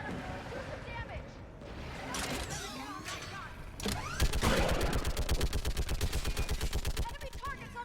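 Mounted gun firing in the Mass Effect 3 video game, starting with scattered shots amid mechanical clatter, then settling into a fast, steady, loud rapid-fire burst, with voices in the background.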